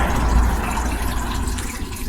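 Water pours steadily from a spout into a cone used for separating gold while prospecting, a continuous broadband splashing rush that stays loud and even throughout with no talk.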